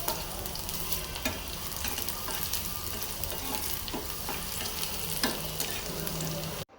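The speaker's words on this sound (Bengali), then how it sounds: "শাকটা ভাজি বাগার দিব, শুকনা মরিচ দিয়ে দিলাম, রসুন পেঁয়াজ শুকনা মরিচ" Greens being tempered in hot oil with dried chili, garlic and onion give a loud, steady sizzle and frying hiss, with scraping stirs of a spatula throughout, no voices.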